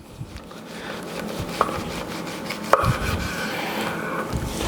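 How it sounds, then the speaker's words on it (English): A knife slices a 45-day dry aged ribeye into 1-inch steaks on a board, giving soft scraping strokes with a couple of sharp knocks against the wood, close and quiet. "I'm gonna cut about 1-inch steaks"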